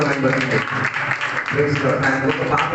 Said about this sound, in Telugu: ఆ ముగ్గురు బిడ్డల కొరకు ఒకసారి గట్టిగా చప్పట్లు పెట్టి